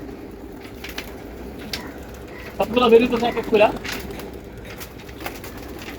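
Pigeons in a home loft make soft cooing calls, clearest in a brief burst near the middle, with people talking over the low room noise.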